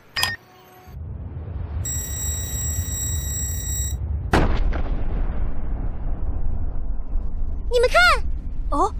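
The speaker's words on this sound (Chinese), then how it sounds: "真的是一个大爆炸" A huge Super Black Four Star detonation in a mecha space-battle video game: a sharp blast at the start, then a sustained roaring rumble with a second powerful burst midway, electronic beeps and whooshing effects layered over it.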